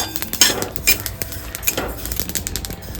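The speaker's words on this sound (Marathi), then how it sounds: "आपले तीळ असे तडतडले पाहिजे" Sesame seeds dry-roasting over medium heat in a hot kadhai for tilgul ladoo, giving a dense, steady crackle with clinks and scrapes of a spoon against the pan, close up and with no talk.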